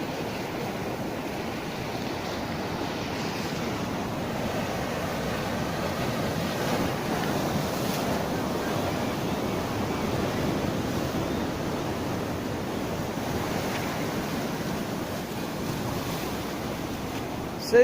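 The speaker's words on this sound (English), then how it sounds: "Soothing sound of the waves." Gulf of Mexico surf rolling onto Galveston beach on a foggy day, a continuous soft roar of breaking waves with a gentle swell and fall, some wind buffeting the microphone, and no voices.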